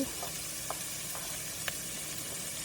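Green and red capsicum with carrot frying in a pan, a steady broadband sizzle with a few faint clicks of a utensil, quiet and continuous with no talking.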